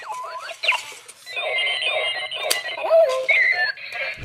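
A Clocky alarm clock rings with a warbling electronic alarm of chirps, beeps and sweeping tones, fairly loud and busy, cycling through varied patterns without pause.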